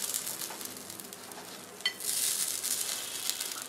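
Kuzhi paniyaram made from raw-rice batter frying in a pan after being flipped, with a steady soft sizzle and crackle throughout, a brief sharper spike midway, and no talking.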